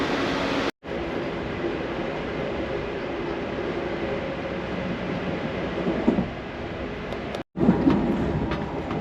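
Amtrak Crescent passenger train running at speed, heard from inside as a steady low rumble with a hissing wash of noise, broken by two brief cuts to silence.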